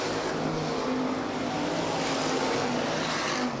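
USRA Hobby Stock race cars roar around a dirt track at Rapid Speedway, a continuous loud engine drone with a rising and falling pitch as the pack runs close by.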